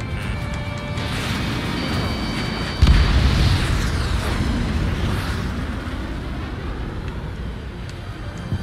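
Missile explosion in the Ace Combat 7 flight game, a sudden loud boom that rolls into a long rumbling decay over a constant jet roar, with faint cockpit warning tones beforehand.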